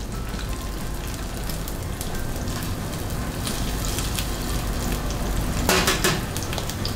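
Red onions sizzling in warm extra virgin olive oil in a pot, a steady crackling fry that holds on its own and swells slightly toward the end.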